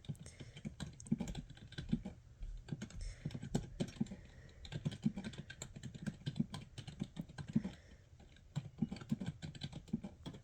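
Steady typing on a computer keyboard, a continuous patter of soft keystrokes close by, running for the full stretch with short pauses and no talking.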